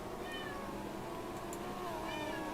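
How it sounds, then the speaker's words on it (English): A cat meows faintly a couple of times in the background, under a steady hum of noise during a racing stream. "Is that your cat?"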